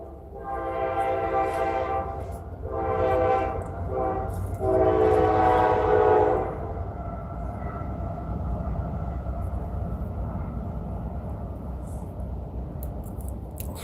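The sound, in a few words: passing train with horn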